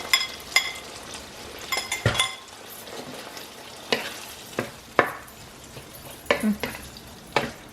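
Ketchup and tomato paste sauce sautés in a pan, a constant sizzle broken by a dozen or so sharp scrapes and clinks of a utensil stirring against the metal at an uneven pace.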